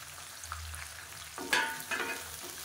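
Small onions, garlic cloves and curry leaves fry in a pan for a Tamil onion kara kuzhambu. A soft sizzle runs throughout, and a couple of brief louder bursts of crackle come near the end.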